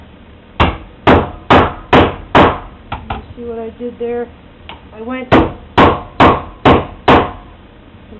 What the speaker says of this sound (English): I'm going to use the hammer to help me along. The hammer is really going to do all the work.